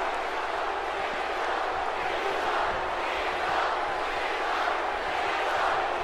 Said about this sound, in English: Crowd still getting behind Cena.